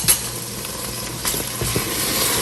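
Palak gosht, spinach and tender mutton, frying in oil in a pot, giving a steady close sizzle with faint stirring scrapes throughout.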